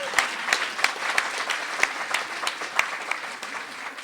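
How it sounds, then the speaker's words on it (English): An audience applauding at a community gathering on homelessness, steady clapping from a modest crowd lasting a few seconds, close and fairly loud. "Can I please have a round of applause for Carly and her friends?"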